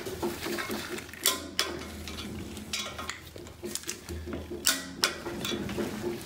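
A torque wrench tightening engine bearing cap bolts to 45 foot-pounds, heard as repeated ratcheting clicks and metallic clunks in short bursts, close and moderately loud with faint background noise.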